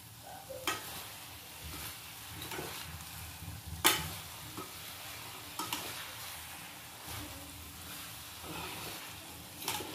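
Mashed tomatoes are stirred into a methi mushroom curry in a pan, with a steady soft sizzle under repeated scraping spoon strokes and occasional louder knocks against the pan.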